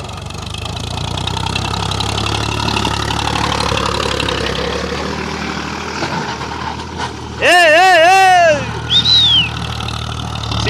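An HMT 3522 tractor engine runs at a steady low idle throughout, close and fairly loud, with a brief high tonal call cutting in near the end.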